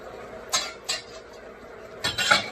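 Metal utensil scraping and clinking against a pan of hamburger and onions, a few separate stirring strokes with a quiet sizzling hiss between them.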